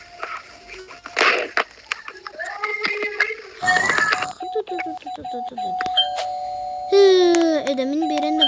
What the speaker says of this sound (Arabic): مين بيرن الجرس؟